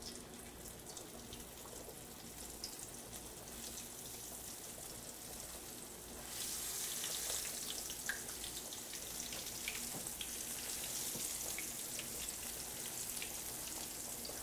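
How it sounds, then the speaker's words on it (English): Corn on the cob drops into frying oil deep enough to reach halfway up the ears, and a loud, steady hiss of sizzling jumps up partway through, then crackles on without pause. "Listen to that sizzle."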